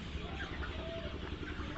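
Sonali chickens on a rooftop chicken farm cluck in a steady low murmur, a dense flock heard close and continuous, with a few brief louder calls rising above the background.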